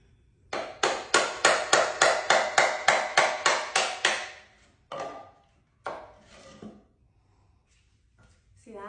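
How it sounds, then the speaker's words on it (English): A hammer strikes a chisel about thirteen times in a quick, even rhythm, sharp and close, followed by a few scattered knocks and scraping sounds. "Now here is how you chisel it."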